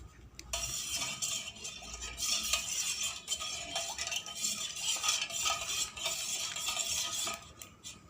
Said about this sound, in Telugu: ఇప్పుడు పౌడర్ వేసి కలుపుకుందాం.